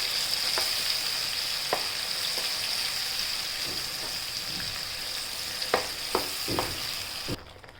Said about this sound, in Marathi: हा गरम मसाला आणि मीठ हे हलवून द्यायचं